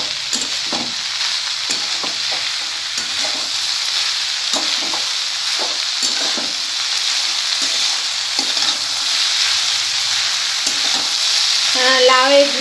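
Bottle gourd peel and beans fry in a wok with a steady, close sizzle, broken by repeated scraping strokes of a spatula stirring the mix.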